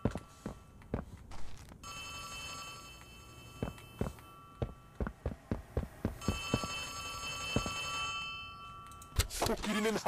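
An in-game telephone in the horror game Poppy Playtime Chapter 3 rings in a series of repeated bursts with a steady bell-like tone, alongside sharp footsteps or knocks and a faint background hum.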